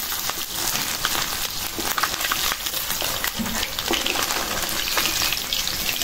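Tangra fish sizzles steadily as it fries lightly in oil in a pan, a dense, continuous crackle close up with no voices over it.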